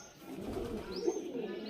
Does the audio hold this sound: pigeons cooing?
yes